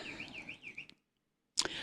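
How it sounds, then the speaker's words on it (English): A neighbours' alarm wails in repeating rising-and-falling electronic sweeps, then cuts out into silence before a sudden loud burst restarts it. "This time it's an alarm."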